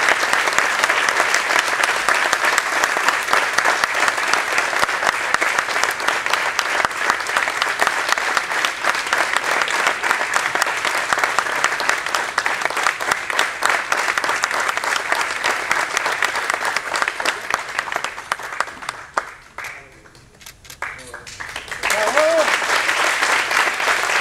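Loud, long applause fills a civic medal ceremony in Sagunto, dense and continuous for about twenty seconds, then fades briefly before a voice begins speaking over a renewed swell.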